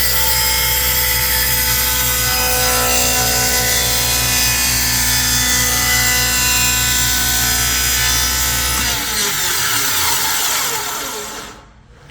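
A power saw slices through wood to cut arcade cabinet profiles, a loud steady whine and grind running about nine seconds before the blade spins down and fades to silence.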